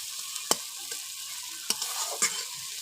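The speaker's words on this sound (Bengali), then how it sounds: "এই দেখুন মশলাটা কষা হয়ে গেছে, ভালোভাবে কষছে।" Spice paste for a rupchanda fish curry sizzles softly in a pan, with a steady low frying hiss broken by a few sharp scraping stirs of a spoon.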